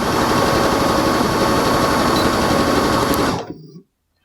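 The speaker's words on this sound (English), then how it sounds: "If you have a sewing machine, buzz it on your sewing machine" Sewing machine stitching an infinity scarf, a loud, steady, rapid mechanical whir that runs for several seconds, then stops abruptly into silence.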